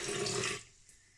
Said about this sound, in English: to that we're going to add 200 millilitres of water